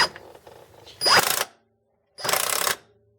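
An impact wrench snugs up a transfer case bolt, two short, loud rattling bursts about a second apart separated by silence, close by with faint mechanical handling noise before them.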